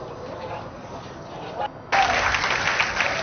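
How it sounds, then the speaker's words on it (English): A crowd watching a Super Heavy booster launch roars and cheers in the distance, the noise swelling abruptly into a louder, sustained wave of shouting. "You can hear the crowd screaming for every milestone from the Super Heavy booster."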